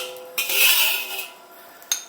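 A metal utensil scrapes the inside of a cast iron wok during seasoning, with a long scrape, a quieter continuation and a brief clink near the end, close and clear with no talking.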